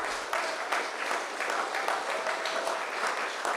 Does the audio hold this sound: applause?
yes